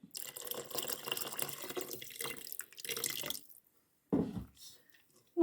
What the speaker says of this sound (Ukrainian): Сюди трошки треба долити ще водички.